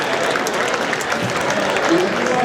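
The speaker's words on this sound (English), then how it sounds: "Let's give a round of applause." Applause from an audience at the Ramp Riot event, a steady dense wash of clapping filling the whole moment, loud and close with no pauses.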